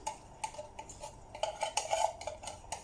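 Faint metal spoon scraping and tapping as condensed milk is scooped out into a bowl for gulab jamun, a run of light irregular clinks that bunch up in the middle, with no voices.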